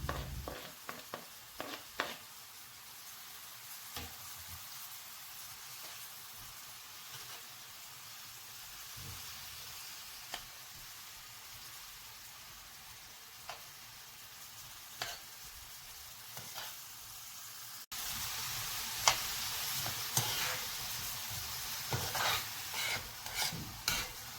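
Diced green and red peppers frying in a pan give a faint steady sizzle, broken by scraping stirs from a utensil, which grow louder and busier near the end.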